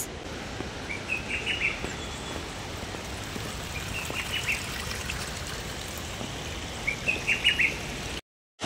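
Rushing water of the Jang waterfall in Arunachal Pradesh, a steady broadband wash of falling and splashing water, with a few bird chirps poking through now and then.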